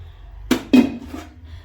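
Freshly washed metal dishes and pots being handled and stacked into a cupboard, two loud close clanks in quick succession followed by a fainter knock, with quiet between.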